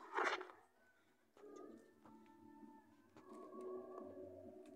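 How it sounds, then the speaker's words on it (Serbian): A caged pigeon coos in a loud burst right at the start, then steady tonal sounds continue softly in the background. "Eto ga, tu je golub."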